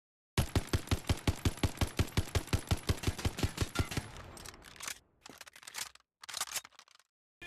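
A Vargo-S rifle chambered in 30-06 with a rate-of-fire barrel in a video game, a rapid evenly spaced burst of about twenty loud close shots, then a few clattering mechanical handling sounds with gaps of silence.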